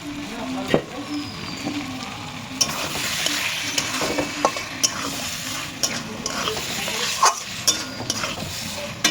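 Steady sizzling of spice masala frying in a pan for potato curry, with irregular scrapes and knocks of a stirring spoon across the pan over the continuous crackle.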